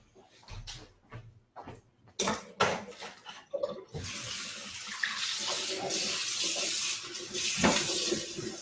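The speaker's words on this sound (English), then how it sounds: "I'm gonna drain it, rinse it with cold water" Cold tap water runs steadily into a kitchen sink for a rinse after a few knocks and clatters of a pot being drained, the stream close and continuous.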